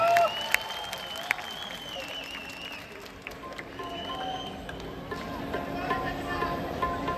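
Applause from a live concert audience at a show in a Delhi mall, sustained and fairly even, with crowd noise and some sung or spoken voices mixed in.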